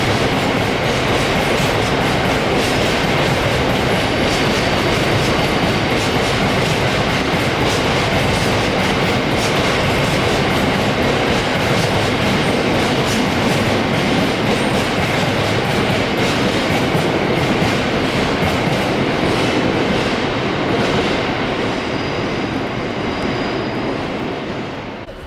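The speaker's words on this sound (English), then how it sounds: "A civil engineers train arriving from Doncaster via the Tyne Valley and heading for the yard at Kingmore." A civil engineers train rolls past on the rails heading into a yard, a loud, steady roar with rhythmic clickety-clack of wheels, fading slightly toward the end.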